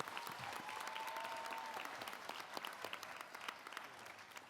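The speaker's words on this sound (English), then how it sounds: "give another round of applause for those tauira and their kura" Steady applause rises from an audience at a children's university graduation ceremony and holds as a continuous wash of clapping, with a brief faint tone near the start.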